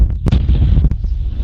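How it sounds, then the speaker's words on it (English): A large explosion bursts loud and close, its deep boom rolling into a long echoing rumble that lingers to the end. "That's a big explosion. There's an echo"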